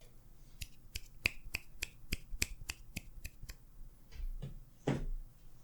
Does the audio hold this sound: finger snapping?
yes